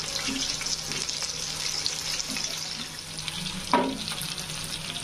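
Tiger prawns fry in a pan with a steady, close sizzle and hiss, and a brief clatter of flipping shows partway through.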